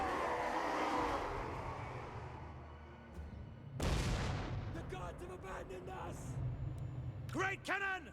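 Cannon fire in a Total War: Warhammer 2 siege battle, with one heavy boom about midway followed by a sharp burst of smaller crashes and battle noise. Game voice lines and effects sound near the end.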